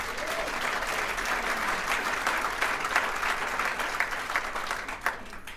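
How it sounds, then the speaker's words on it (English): Steady audience applause at a Washington, D.C. regional event with Maxine Waters and Ted Lieu, a dense wash of clapping that holds fairly even throughout with no talk over it. "Give him a big round of applause."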